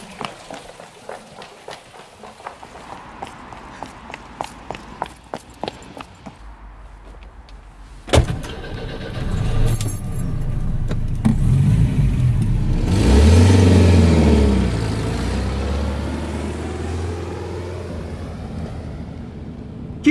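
After a run of sharp footsteps, a car engine starts and revs loudly, then roars and surges steadily as the car drives off, with no talking.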